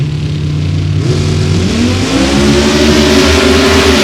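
A drag racing dragster with a little 4-cylinder Bantam engine roars loudly at Indianapolis, its revs climbing steadily in pitch as it accelerates in one continuous, close, powerful drone with no voices.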